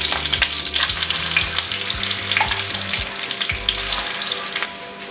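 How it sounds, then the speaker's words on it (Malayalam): Masala hits hot oil in a pan and fries with a bright, crackling sizzle, punctuated by several sharp stirring clanks in the first few seconds before the frying settles into a steady hiss. "ഈ മസാല നമ്മൾ ഈ ഓയിലിലേക്ക് ചേർത്ത് കൊടുക്കും"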